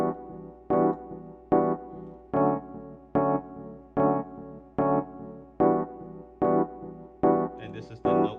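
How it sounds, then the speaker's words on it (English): An electronic piano plays one chord-like note over and over, about ten evenly spaced, sustained stabs roughly every 0.8 seconds, each fading before the next, with nothing else underneath. "You can use any electronic piano that sounds like this."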